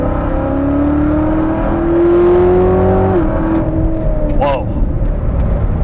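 A 2019 Chevrolet Corvette ZR1 engine roars under hard throttle, pitch climbing loudly before dropping off as a gear changes, with a short exclaimed voice near the end.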